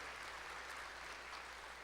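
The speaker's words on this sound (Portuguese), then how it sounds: "pode aplaudir o Senhor" Church congregation applauding during a Portuguese-language service, a faint, steady wash of many hands clapping heard from a distance.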